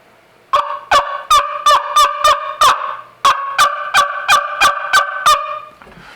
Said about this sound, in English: So that's going to be our section for turkey calls.